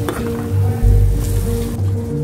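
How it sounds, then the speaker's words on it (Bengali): Spice paste (masala) with a little added water fries in a pan while being stirred, giving a brief, close, soft sizzle with squishy scraping movements. "দেখো মশলাটা ভালো করে কষে নিচ্ছি"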